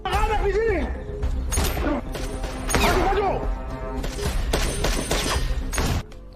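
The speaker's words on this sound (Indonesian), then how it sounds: "Kemudian terjadilah aksi tembak-menembak." A film gunfight crackles with a chaotic exchange of sharp bangs and impacts, loud and dense, mixed with shouted voices and a dramatic score.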